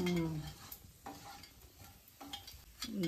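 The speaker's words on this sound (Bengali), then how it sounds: "মা এবারে গরম তেলে ফোড়ন দিয়ে দিচ্ছে, শুকনো লঙ্কা ফোড়ন" Dry red chilies and whole spices hit hot oil in a pan, giving a close, crackling sizzle with sharp spitting pops that rise and fall in short bursts, no voices.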